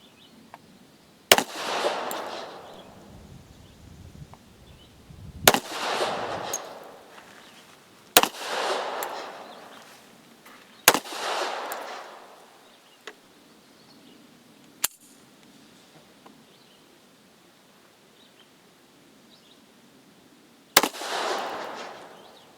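Seven .45 ACP gunshots from Unique-powder reloads ring out at irregular intervals, each a sharp crack followed by a broad decaying echo, some louder and closer than others, with no talking.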